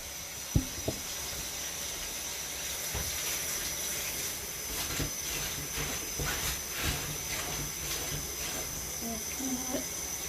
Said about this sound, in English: I'm just washing it in the sink here.